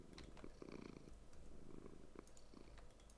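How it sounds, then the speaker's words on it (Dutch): A cat purring in Minecraft, a soft, low, steady rhythmic rumble that pulses with each breath and stays quiet and close throughout. "Ga je nou spinnen?"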